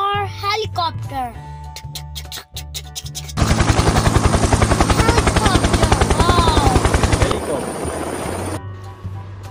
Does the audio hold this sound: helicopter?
yes